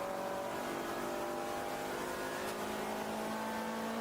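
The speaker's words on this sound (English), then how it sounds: "Hear that Honda" Honda race car engine, a K20 or K24, revving at high speed during an endurance race at a road course, a steady distant whine heard continuously at moderate level.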